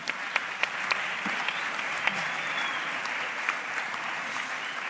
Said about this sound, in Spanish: Un aplauso, por favor, para Ismael y Laura.